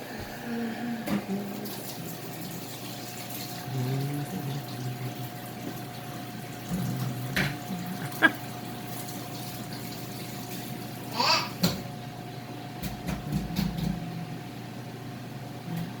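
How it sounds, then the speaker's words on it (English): Running tap water splashes steadily over hands at a kitchen sink during home cooking, a soft continuous wash with a few brief knocks and splashes, no talking. "I'm gonna lick my hands and then wash my hands"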